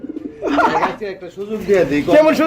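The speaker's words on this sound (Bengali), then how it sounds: "গ্রিজেল কবুতর জোড়াটা সাথে দুটো বেবি রয়েছে" Grizzle pigeons cooing up close, a pair kept with two young birds, giving rounded throaty warbling coos in short repeated bursts, loud and near.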